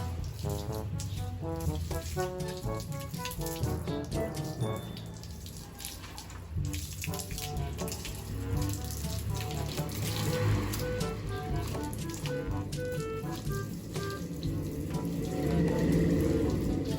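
Water runs and splashes steadily while a black motorcycle is rinsed outdoors, a faint continuous stream with scattered drips and spatter throughout.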